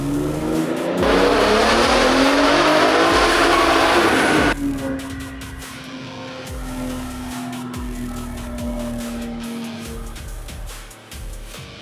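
Gen 3 Ford F-150 Raptor fitted with a Formline turbo kit revving hard on a dyno, a loud rising engine pull that cuts off after a few seconds into a lower idle and winding-down hum.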